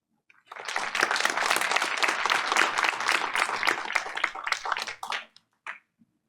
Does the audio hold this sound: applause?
yes